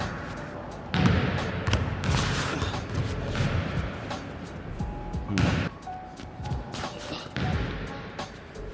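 Under Armour Curry 4 Flowtro foam-soled sneakers on a court, with repeated scuffing, sliding footfalls and occasional thuds over several seconds and no squeaks.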